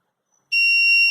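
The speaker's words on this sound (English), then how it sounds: "and the buzzer comes on." A Raspberry Pi laser tripwire buzzer suddenly sounds after a moment of silence, a loud, sharp, steady electronic tone that starts abruptly and holds, close and alone.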